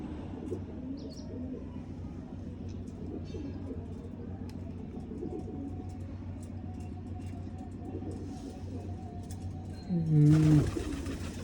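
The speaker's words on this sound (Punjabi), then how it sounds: "ਬਸ ਸੈੱਟ ਨੇ ਬਈ ਸਾਰੇ ਆਪਣੇ ਕਬੂਤਰ ਤੇ ਦਾਣ ਦੁਣ ਹੈਪੀ ਨੇ ਪਾਤੇ" Pigeons coo steadily in low, repeated murmurs over a constant background hum, with a short louder burst of noise near the end.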